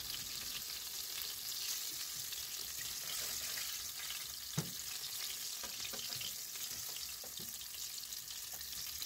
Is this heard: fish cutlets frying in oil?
yes